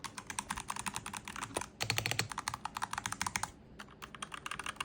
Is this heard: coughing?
no